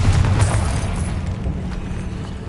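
Confringo blasting spell exploding in Hogwarts Legacy, a loud, sustained low boom with rumbling decay filling the whole moment, no talking over it.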